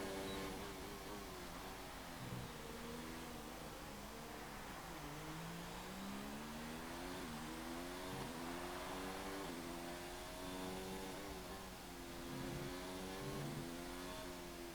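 A racing car engine on a qualifying lap in a racing video game set in Canada, loud and continuous, its pitch rising through each gear and dropping back again at the shifts as the lap goes on, with no talk.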